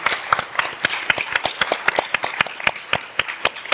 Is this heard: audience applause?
yes